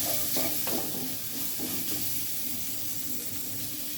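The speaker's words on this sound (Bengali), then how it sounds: "মাছ ভাজা হয়ে গিয়েছে, এবার আমরা মাছগুলো তুলে নিব" Fish frying in a pan for a bottle gourd and prawn dish, a continuous dense sizzle with occasional stirring scrapes, close and fairly loud with no talking.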